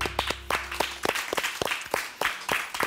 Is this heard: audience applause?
yes